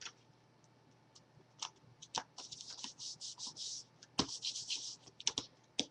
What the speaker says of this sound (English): I'm just going to use my tape runner to adhere that